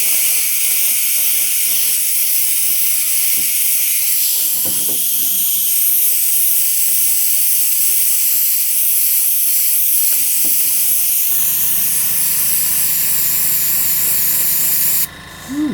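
Steady spray-gun hiss as green paint is laid over the taped-off top of a shop truck, a continuous close airy rush lasting most of the stretch before cutting to a quieter steady hum.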